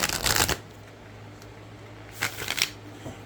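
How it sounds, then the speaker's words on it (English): A Halloween-themed Rider-Waite-Smith tarot deck being shuffled, two short riffling bursts separated by about a second and a half of quiet, close and crisp with no talk. "because it really is more difficult for me to shuffle"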